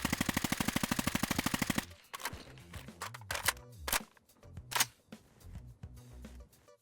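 An M4 assault rifle mod in Fallout 4 fires a fast, even burst of close, loud automatic shots, followed by scattered clicks, clanks and mechanical handling sounds.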